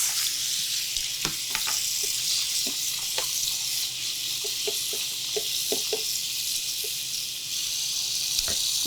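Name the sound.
rinsing green beans under water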